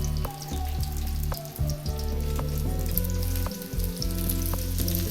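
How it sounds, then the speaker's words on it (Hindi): Large eggplant halves fry in oil for a stuffed Hyderabadi masala baingan, a steady bubbling sizzle under a low mechanical hum with occasional sharp crackles and pops. "सबसे पहले हम बैंगन को फ्राई करते हैं"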